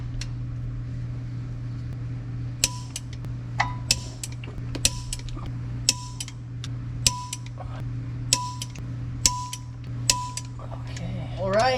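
Torque wrench clicking while bolts are tightened during a manual transmission swap, a series of sharp evenly spaced clicks and ratchet creaks over a steady low hum, close by.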